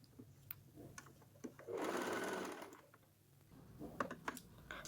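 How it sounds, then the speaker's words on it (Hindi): Sewing machine stitching a kurti, quiet close clicking of the mechanism with a short burst of fast whirring stitches in the middle, then more scattered ticks and taps. "अब इसको हम पलट देंगे पीछे की तरफ और एक सिलाई लगाएंगे"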